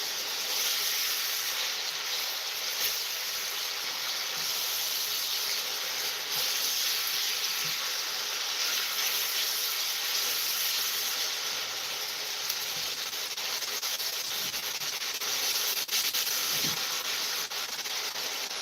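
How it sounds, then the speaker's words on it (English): Steady, loud hiss of food sautéing in a hot pan for Jamaican steamed red snapper with okra, a dense continuous sizzle without pause, close up. "The sound of the cooking."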